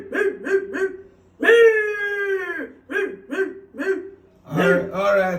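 A voice imitates a dog, giving a string of short rhythmic barks, a long drawn-out howl, more barks, then a final yelping howl, close and clear.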